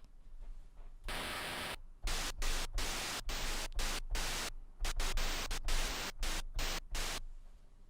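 Harsh hissing chiptune noise-channel synth from the magical8bitplug2 plugin comes in loud rhythmic bursts, cutting on and off in a choppy pattern with no voices.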